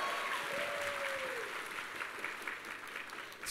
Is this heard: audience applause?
yes